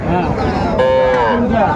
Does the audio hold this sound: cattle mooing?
yes